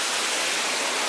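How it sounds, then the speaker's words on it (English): Creek waterfall pouring down beneath a railway trestle on the E&N Railway at Beaufort Slope, a steady, dense rushing hiss that fills the scene evenly with no breaks. "It's all about the creek waterfall coming down."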